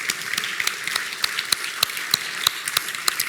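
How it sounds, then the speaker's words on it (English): Audience applause in a conference auditorium after a session talk, steady scattered clapping from many hands at moderate distance, carrying on evenly with no voices over it. "let's give our speaker another applause"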